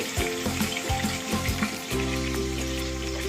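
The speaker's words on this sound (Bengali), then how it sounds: "এখন আমরা এর ভিতরে দেবো মাছের মাথা মাছের মাথা যা হয়ে গেছে এটাকে ভালো করে ভাজব" Rohu fish head frying in hot oil in a pan, a dense steady sizzle with a sudden louder surge partway through as the pieces settle, plus some low clattering early on; no voices.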